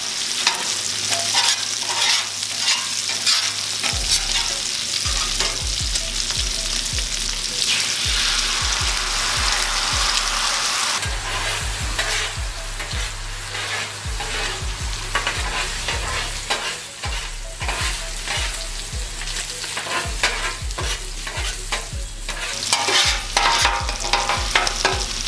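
Bacon and sausage fat sizzle loudly on a 36-inch Blackstone griddle, a constant crackling hiss broken by repeated scraping and stirring strokes, with no voices.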